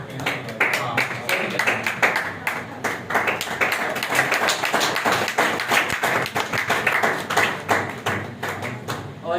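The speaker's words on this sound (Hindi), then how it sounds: "जोरदार तालियां होनी चाहिए।" Dense, steady clapping from a crowd at an honouring ceremony, with sharp individual claps close by, continuing vigorously throughout with no voices on top.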